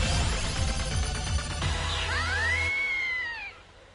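Gatomon, a cat Digimon in the video game Digimon World Next Order, lets out a loud drawn-out meow that rises and falls, over a patterned electronic game backdrop that fades out at the end.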